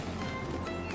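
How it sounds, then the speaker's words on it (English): Water boils in a pot on a home kitchen stove, giving a brief, steady hiss with a dense bubbling crackle at moderate volume. "This is the sound of my water boiling"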